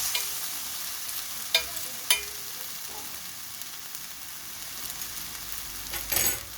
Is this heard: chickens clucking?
no